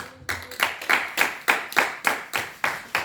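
A church congregation claps in a steady, even rhythm of about ten sharp claps, close and moderately loud, with no voices over them.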